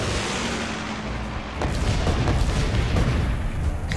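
Distant booming gunfire and explosions in the Guns Up strategy game, a muffled rumbling barrage of low thuds with a sharper burst at the very end.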